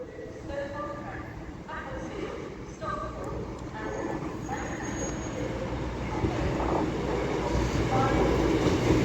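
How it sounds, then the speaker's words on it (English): A CrossCountry Super Voyager diesel train at Stafford station, a low rumbling engine drone and rolling wheel noise that builds steadily louder as it approaches, with faint station ambience. "The final train of the day will be a cross-country Super Voyager working the 1633 cross-country service to Manchester Piccadilly."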